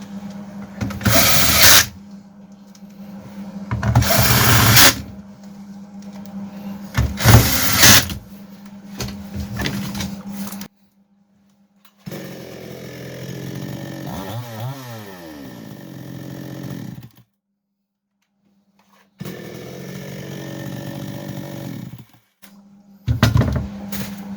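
A Kitprom petrol chainsaw, just repaired, is started in several tries, with short loud bursts of raspy engine running separated by silences and a longer stretch of idling chatter.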